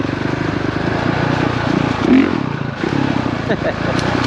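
A Honda CRF450RX dirt bike engine with stock exhaust drones steadily nearby, giving a smooth, throaty note with small shifts in revs as it rides along.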